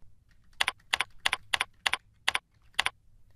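Label name being typed on a computer keyboard: about eight crisp, evenly spaced keystrokes, close and clear over a quiet room.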